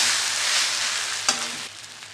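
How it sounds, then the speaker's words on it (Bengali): Green chilies fry in a hot pan with a steady, close, loud hiss of sizzling oil. A single sharp clink sounds partway through, and the sizzle settles slightly quieter toward the end. "এবার আমি এটা ভালো করে ভেজে নেব।"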